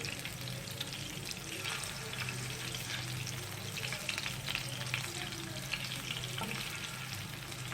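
Beef chapli kabab frying in a pan just after flipping, a continuous close oily sizzle with faint spatula scrapes and no voices.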